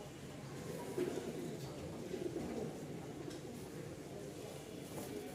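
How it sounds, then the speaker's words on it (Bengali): A male Maxi pigeon coos softly in a few low, rolling calls against a quiet background with faint, distant noise. "একটু ডাক দেখাই নরের"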